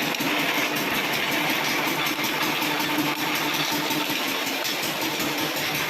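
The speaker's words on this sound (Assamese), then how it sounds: "ইঞ্জিন ইমান লোড দিছে পৰিছে" A diesel engine drives a 28-blade mustard oil expeller under heavy load, a steady close mechanical drone with rapid rhythmic chatter, loud and continuous with no voices.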